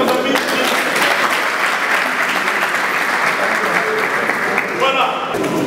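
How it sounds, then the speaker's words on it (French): A crowd at a martial arts and combat sports demonstration applauds loudly and steadily, dense clapping continuing throughout with faint voices underneath. "on applaudit pour nos amis"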